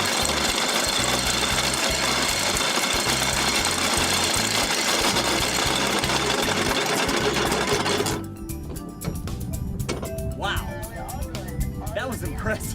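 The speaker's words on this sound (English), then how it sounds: "let the anchor go as we found our spot for the night" Anchor windlass on a yacht paying out chain to anchor for the night, a loud rapid mechanical clatter that runs steadily for about eight seconds, then stops, leaving quieter background and a voice.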